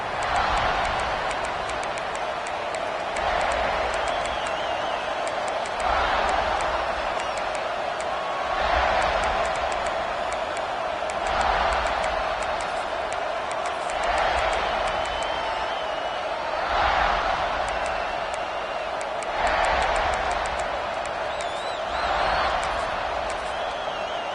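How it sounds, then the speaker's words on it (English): Stadium crowd noise from an American football video game, a steady loud roar that swells in repeated surges of cheering every few seconds, with a commentator talking over it throughout. "This crowd ready to make its presence known."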